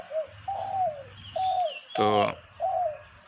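A caged dove cooing close by, soft repeated hooting calls spaced through the phrase, broken by a brief spoken word.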